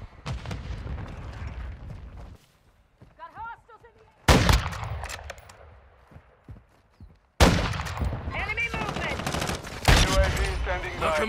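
Bursts of gunfire and explosive booms in Modern Warfare 2 come in loud volleys separated by quieter gaps, with radio-style callouts heard between the shots.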